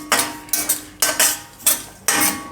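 A metal spoon scrapes roasted oats out of a pan into another vessel, giving about five loud, rhythmic clinks and scrapes of metal against metal, close by and with no voices.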